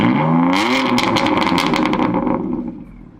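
A BMW M4 Competition accelerating hard, its exhaust rising in pitch through the gears with crackling pops, loud up close, then fading away as the car moves off.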